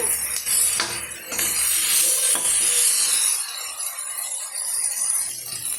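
Onions and spices sautéing in a pan for chana gravy, with a steady sizzle and several sharp clinks of a utensil against the pan early on, then a quieter, even frying hiss.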